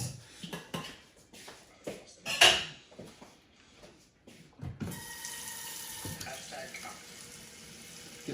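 Tap water runs into a pot for pasta in a home kitchen, a steady gushing stream after some clattering of pans and handling, with voices talking briefly before it.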